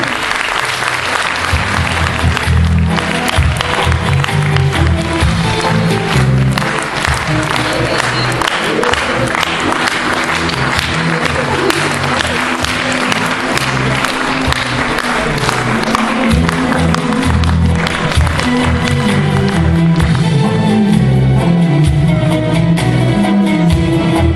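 An audience at a film festival award presentation applauds loudly and steadily for a long stretch, dense clapping with a few cheers and whoops mixed in, close and continuous.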